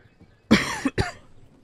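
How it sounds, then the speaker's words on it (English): Two sharp coughs land close on the microphone, one heavy burst followed quickly by a shorter second, with near silence around them. "Sorry for coughing into the microphone."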